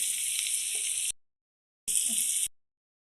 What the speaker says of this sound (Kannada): ಈಗ ಜೀರಿಗೆಯನ್ನು ಹಾಕ್ಕೊಳ್ತಿದ್ದೀನಿ.